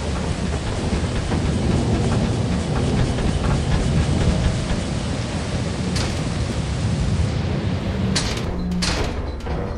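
Thunder from a lightning storm in the video game Lethal Company rolls on as a dense, continuous rumble. The wash of storm noise fills the whole stretch, and a few sharp crackles break through near the end.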